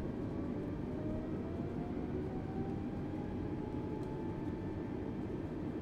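Airbus A320neo jet engines in Microsoft Flight Simulator 2020 spooling up with a little thrust for taxi: a steady, loud roar carrying faint, slowly rising whine tones, continuous throughout with no talking.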